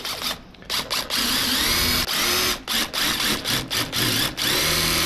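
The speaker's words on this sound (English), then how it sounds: "hopefully this thing lines up once I drill these holes" A power drill whirs loudly in repeated bursts, starting and stopping as holes are bored, with short pauses and clicks between runs.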